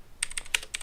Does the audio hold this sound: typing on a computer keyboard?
yes